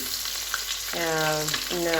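Fish frying in a pan for a spicy Bengali fish dish, a continuous loud sizzle and crackle of hot oil heard up close, with a tonal whine from the stove or kitchen running over it.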